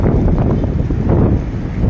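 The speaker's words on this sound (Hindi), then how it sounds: "कितनी भाई तेज धूप है, लू वाली हवा चल रही है भाई साहब" Hot summer wind blows at a railway station in strong, steady gusts, a loud, rumbling buffet across the microphone that continues throughout with no clear voices.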